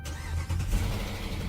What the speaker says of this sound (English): This car should start.